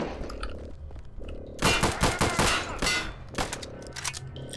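Gunfire in Return to Castle Wolfenstein: a loud burst of rapid shots with metallic clangs in the middle of the clip, set against steady game background sound, with no talking.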